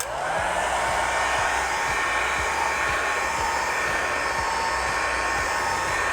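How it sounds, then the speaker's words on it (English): A heat gun on its low setting whirs steadily and loud at close range while softening a rubber TechSpec tank grip for a 2015+ Yamaha YZF R1. The motor hum is continuous and unbroken. "We will need to heat it up just a bit with a heat gun."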